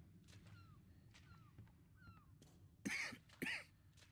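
Two short, harsh coughs from a game character wearing a gas mask with a filter in Metro Exodus, muffled and close, arriving late in a stretch of quiet ambient noise with faint bird-like chirps.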